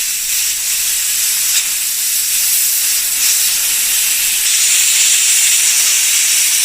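A compressed air line blows oil out of the back end of a BMW M52B30 engine part under rebuild, a steady loud hiss holding for several seconds with slight surges and no talk.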